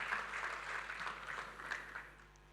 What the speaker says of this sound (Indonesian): Kembali boleh berikan tepuk tangan bagi Tuhan.